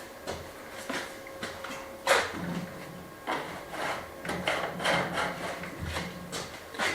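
A brush lays a coat of sealer onto stone in a farmhouse renovation in Spain: close, irregular swishing strokes and light wooden taps and rubs, with no voices.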